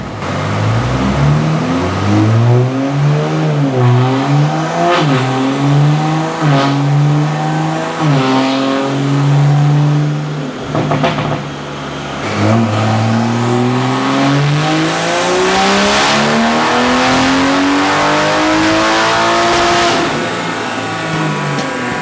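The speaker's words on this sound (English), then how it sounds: "we will do a little dyno pull for you guys" Toyota Supra with a B58 engine revving hard on a dyno, loud and close, climbing through gears in rising surges with brief shifts, a dip near the middle, then a long sweeping pull upward.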